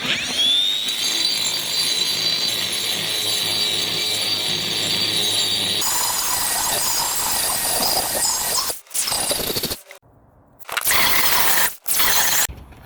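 A power tool whines loudly as it grinds down a skateboard ledge, first as a steady high-pitched squeal, then as rougher grinding cut into short bursts with pauses.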